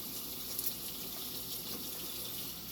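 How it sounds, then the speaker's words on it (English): Freshly harvested collard leaves are rinsed under a running tap, a steady, soft stream of water splashing continuously without talk. "And then I rinse my big collard leaves off like that first."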